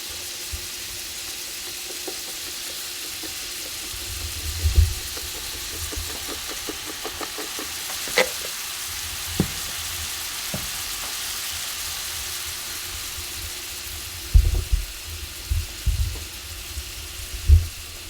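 Venison tenderloin steaks fry in a pan with a steady, soft sizzle, broken by occasional sharp pops and clicks, close and at moderate volume with no talking.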